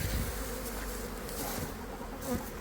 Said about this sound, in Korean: 이제 벌이 다 넘치는 것 같아 이제.